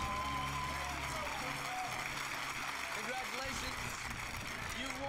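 Studio audience applause on The Moment of Truth TV game show: a dense, steady wash of clapping that runs the full length at even loudness, with voices and a low tonal bed underneath.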